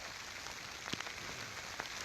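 Rain falls steadily outdoors at night in an urban area, a soft continuous patter with a few sharper drops landing nearby.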